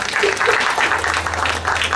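An audience applauds staff introductions at a staff orientation program, a steady wash of clapping filling the short moment at moderate level, with a voice faintly mixed in.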